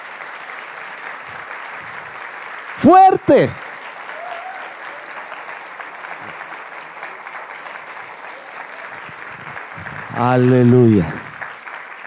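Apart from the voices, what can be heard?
church congregation applause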